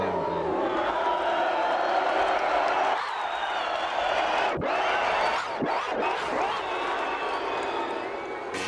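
A loud, dense crowd roars continuously at Parkview Raceway, the cheering swelling and dipping over several seconds with brief sharp whoops cutting through.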